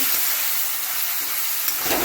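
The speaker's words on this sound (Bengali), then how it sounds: "এই সময় এর মধ্যে আমি আদা রসুন বাটা দিয়ে দেবো।" Ginger garlic paste is added to onions frying in oil, and a loud, dense, continuous hiss and sizzle fills the whole moment without voices.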